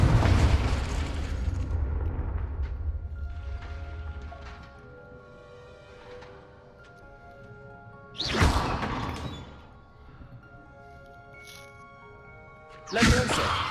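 Confringo spell explosions in the video game Hogwarts Legacy, two sharp booming bursts several seconds apart, following a rumbling opening and quieter magical effects in between.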